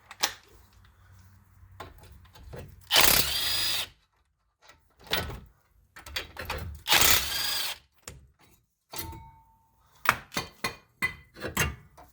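A power tool backs out 19 mm caliper bracket bolts on the front brakes of a 2014 Lincoln MKX, heard as two loud, sustained whirring bursts separated by quieter clicks and knocks of tools and parts, close by with no talk.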